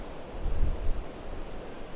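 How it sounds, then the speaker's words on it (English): Gust of wind sweeping across a ski slope during a snowstorm, a broad roaring rush that swells and buffets the microphone before easing off. "I'll let this little gust go past"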